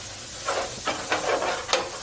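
Butter sizzles and hisses in a hot pan while grilled cheese sandwiches are being made, with a steady frying crackle and a few sharper spits as the bread goes in.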